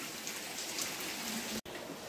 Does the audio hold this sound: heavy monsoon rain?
yes